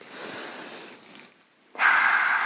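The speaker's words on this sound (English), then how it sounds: "Let those frustrations out through breathing in and out" A person breathing deeply, one long airy breath followed by a short pause, then a louder and sharper inhale or exhale.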